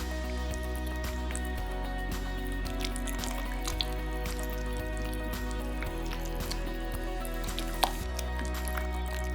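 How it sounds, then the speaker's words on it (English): A spoon stirs a plant-based pumpkin fluff mixture in a bowl, making soft wet squishing and dripping sounds in an uneven rhythm at close range, with light clinks now and then. "we're going to give this just a little stir with our big arm"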